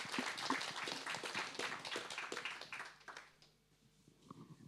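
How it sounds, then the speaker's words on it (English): Applause from an event audience at a product talks gathering, a dense spread of claps for about three seconds that thins out and fades, leaving a quiet room with scattered faint taps at the end. "please a round of applause for both of them for sharing insights"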